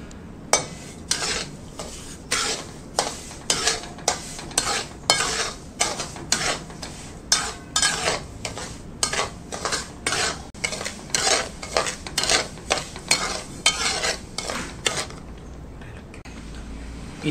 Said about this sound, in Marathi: हा रवा आपण ह्या तुपात घालूया आणि छान आपल्याला ह्याला भाजून घ्यायचं आहे